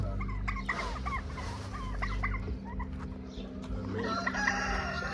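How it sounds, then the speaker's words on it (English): Chickens and turkeys on a homestead, clucking and crowing close by in a busy, continuous flock chorus, with no one talking. "This is where all the turkeys come and congregate, all the chickens"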